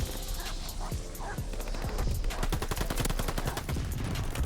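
Guard dogs barking amid rapid gunfire in the video game Call of Duty Vanguard, sharp barks mixed with bursts of automatic shots and impacts, busy and loud throughout with some speech underneath.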